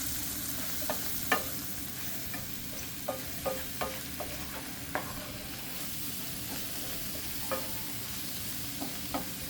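Base for a chicken marsala sauce frying in a pan, a continuous low sizzle broken by irregular clicks and scrapes of a utensil stirring, close and fairly quiet, no voice.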